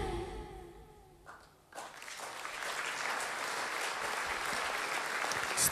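At a concert at the Solo Życia festival in Lublin in 2016, the final music fades out and an audience bursts into dense, sustained applause that swells and holds steady.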